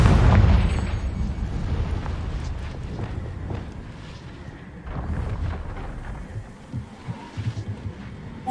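A Confringo fire spell bursts in the Hogwarts Legacy video game, a loud booming blast at the start that rolls into a long rumbling tail, with further crackling thuds and smaller impacts near the end.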